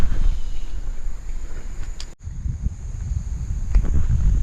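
Steady wind moves through a shaded forest beside a Longjing tea plantation in China, a soft continuous rush with low rumbling gusts that dips briefly midway and then picks back up.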